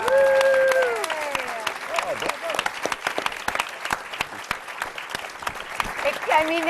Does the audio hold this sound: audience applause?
yes